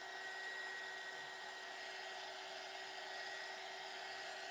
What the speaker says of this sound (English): Not a fan of this heat gun, y'all.